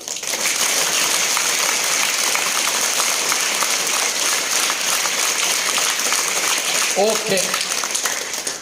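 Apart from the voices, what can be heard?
loud hand clapping by audience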